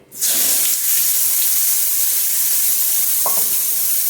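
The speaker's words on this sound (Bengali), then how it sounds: "শাকটা একটু ভেজে তুলে নিলে কি হয়" Red amaranth leaves, seasoned with a little cumin powder and sugar, hit the hot pan and set off a loud, steady sizzle that starts abruptly and keeps going without a break, with no talking.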